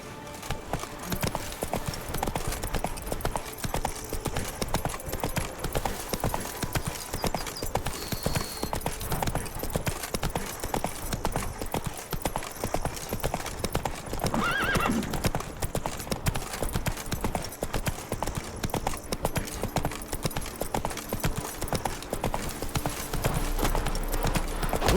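Roach, a horse in The Witcher 3: Blood and Wine, gallops in a steady rapid clip-clop of hooves that runs the whole time at an even loudness, with a brief whinny partway through.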